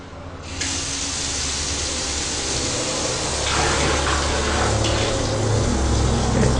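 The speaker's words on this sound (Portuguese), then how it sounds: "Na verdade, a água ela escorre pelo vidro, certo? E quando ela escorrer pelo vidro, ela cai embaixo do aquário." Water runs down glass into a garden aquarium fountain, a steady loud rushing and splashing that starts abruptly and keeps up without a break.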